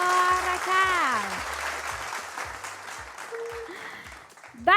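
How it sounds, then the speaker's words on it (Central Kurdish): Sustained audience applause at a televised quiz and gift show, steady and fairly loud throughout, with bright tonal music sweeps playing over it. "هەر بژی چەپڵەیەک"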